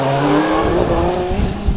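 A race car powers up a hillclimb course at a British championship event, engine note rising and sweeping past with tire squeal, loud and close, while a commentator talks over it.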